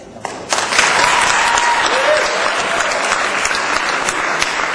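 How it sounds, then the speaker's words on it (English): A wedding crowd bursts into sustained applause, steady clapping from many hands filling the room for several seconds. "So, I'll clap for you guys."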